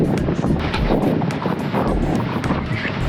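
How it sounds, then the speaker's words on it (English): Steady wind buffets an anchored sailboat, a loud continuous rumble and roar of gusts across the microphone with no voices, filling the whole stretch evenly. "It's a little windy here."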